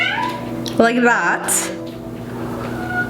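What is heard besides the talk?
cat meowing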